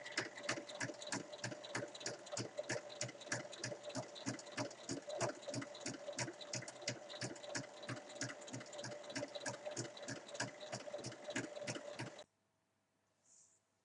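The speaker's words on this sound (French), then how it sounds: "je vais donc venir faire une piqûre de chaque côté, donc sur chaque poignet" A sewing machine stitches seams on fabric wrist handles for a makeup pouch, running in a steady fast rhythmic chatter for about twelve seconds before stopping, then near silence.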